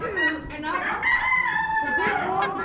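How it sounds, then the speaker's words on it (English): A splash lace Wyandotte rooster crows in a long, drawn-out call, loud and close, amid a noisy barn of other fowl at a bird auction. "Some maybe splash lace Wyandotte roosters"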